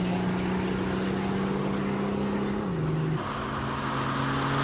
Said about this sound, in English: Gary Martin's in his diesel M2.